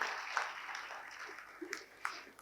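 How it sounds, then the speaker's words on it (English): Distant, soft applause from an audience fills an inaugural ceremony hall at an intercollegiate fest, a continuous patter with a few slightly louder claps standing out. "Shall we have a big round of applause to Reverend Father Prashant Martha?"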